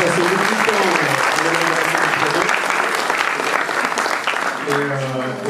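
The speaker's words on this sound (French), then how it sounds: "je vous propose de l'applaudir parce qu'il le mérite" Dense, loud applause fills the whole stretch at a football club's orientation round table, honouring a volunteer, with voices audible beneath the clapping.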